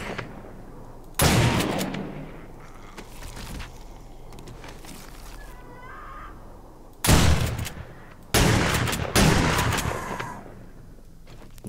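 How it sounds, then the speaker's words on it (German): Several loud bursts of rapid gunfire in the video game 7 Days to Die, close and harsh, come in separate volleys with quieter ambient rumble between them. "wie viel Schuss muss man denn in den reinballern,"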